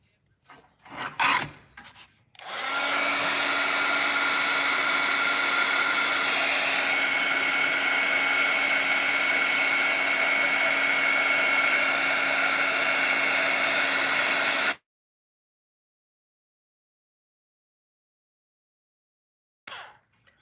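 A hair dryer blows steadily on a damp painting, a loud, even whooshing roar with a low hum that starts abruptly, runs about twelve seconds, then cuts off to silence.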